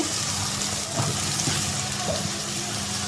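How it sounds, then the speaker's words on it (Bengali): Spiced water poured into a pan, a steady close rush of liquid over a faint low hum, continuous and fairly quiet, with no talking. "আমি একটু পানি দিয়ে দিচ্ছি এই মশলার পানিটা দিয়ে দিচ্ছি"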